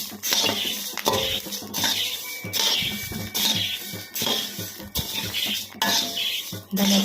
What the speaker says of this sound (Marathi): यावर एक दोन चमचे तेल टाकू आणि झाऱ्याने असे भाजून घेऊ